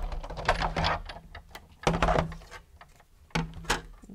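A die-cutting machine presses a poinsettia stamp die and plate, giving three loud bursts of cranking, clattering mechanical noise with pauses between them, close by and with no talking.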